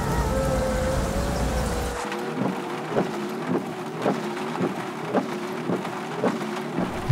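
Heavy rain with thunder as a sound effect in an audio drama, a loud steady downpour that thins after a couple of seconds into dripping with regular soft thumps, no voices over it.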